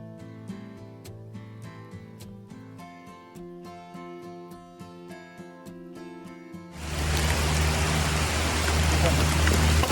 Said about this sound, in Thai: ฝนกำลังตกนะครับ ก็ลงเม็ดหน่อย ๆ นะ